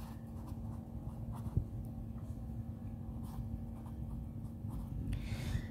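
Quiet strokes of writing on a classroom board, short scratchy marks and taps in an irregular rhythm over a steady low room hum.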